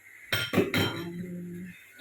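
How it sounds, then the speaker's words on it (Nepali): Dishes are being washed by hand, with a few sharp clinks and knocks of pots and metal utensils close by, followed by a fading ring. "यहाँ म भाँडा धुँदै बात मार्छु"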